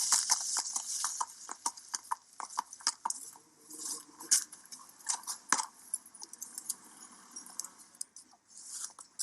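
A racehorse's hooves clip-clop in a quick, even trotting rhythm during harness racing training, sharp close impacts repeating throughout with faint jingling of tack.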